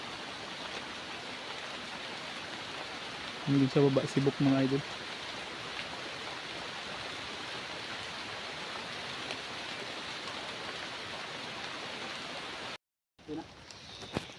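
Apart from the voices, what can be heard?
rain falling in forest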